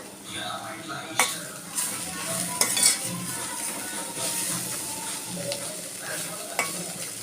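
Ponnaganti greens curry sizzles in a pan while a spoon stirs and scrapes it, making close, repeated clinks and rustles over a continuous frying hiss.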